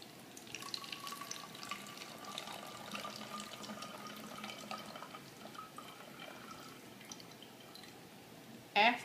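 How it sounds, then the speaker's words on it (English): Hydrogen peroxide, half a cup, pouring into a 16-ounce bottle as a quiet, steady liquid trickle with faint gurgling over several seconds, ending in a brief louder knock. "I will now add 1/2 cup of hydrogen peroxide into my 16-ounce bottle."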